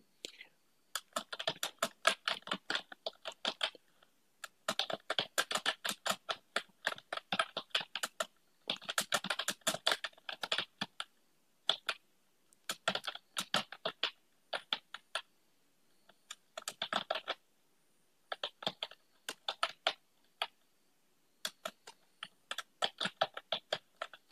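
Someone types on a computer keyboard in MS Word in bursts of rapid, quiet key clicks separated by short pauses, fairly close and soft.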